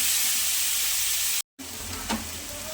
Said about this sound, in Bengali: আলুটা সিদ্ধ হয়ে যায়, একটুখানি ভাজা ভাজা হয়ে যায়